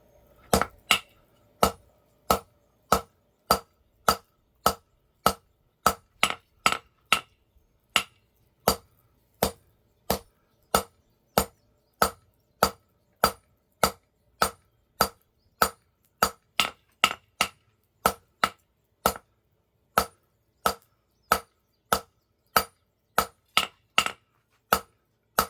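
A forging hammer strikes hot metal on an anvil in a steady, even rhythm, dozens of sharp ringing blows spaced about half a second apart, close and clear with no talk.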